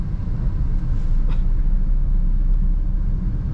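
Low, steady engine rumble of a car gaining speed in third gear, loud and continuous with no talking.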